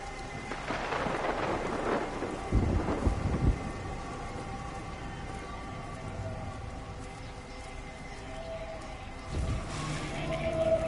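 Steady rain pours throughout in a video game, with deep rumbling thunder rolling in twice, once early and again near the end, loud and close.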